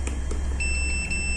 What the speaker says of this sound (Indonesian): Sekarang kita coba dengan menggunakan buzzer.